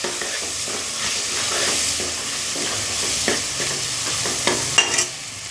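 Spice powders, including garam masala and turmeric, sauté in hot oil with a close, steady sizzle. A spoon stirs and scrapes the pan, with sharper knocks toward the end.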